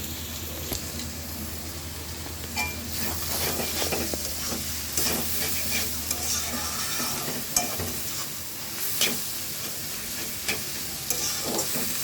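Vegetables for noodles are stirred and tossed in a hot pan, with bright sizzling and repeated scraping and clinking of a utensil against the metal, close up and without talk.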